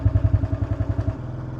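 A small Honda Dream motorcycle running on a road, its engine giving a rapid, steady low putter that drops to a lower, smoother drone near the end, close to the microphone.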